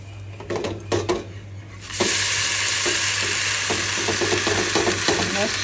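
An uttapam crackles in oil in a pan over a medium-to-low flame: a few utensil clinks and scrapes first, then a loud, steady hiss of frying takes over, with a faint voice under it.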